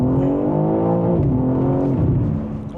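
A BMW M3 CS accelerates hard in first gear, its engine close and loud, climbing steeply in pitch before dropping briefly and climbing again, then easing off at the end.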